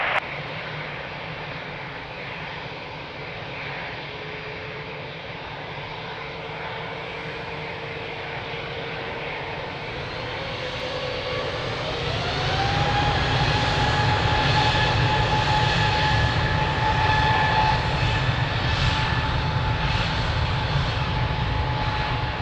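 An airplane taking off at Lisbon Airport, its engine roar steady and loud, then swelling with a rising whine about halfway through as thrust builds, with no talk.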